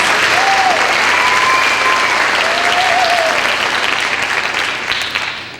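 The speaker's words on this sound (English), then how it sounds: "Let's give them another round of applause." An audience at a scholarship pageant applauds a group of dancers, with loud, steady, full-room clapping and a few faint whoops that tapers slightly toward the end.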